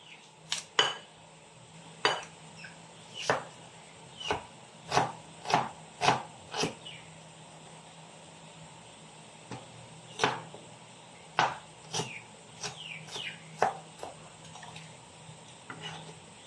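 Knife chopping onion on a board in a home kitchen, about fifteen sharp separate taps at uneven intervals, close and clear over a steady low hum, with no talking.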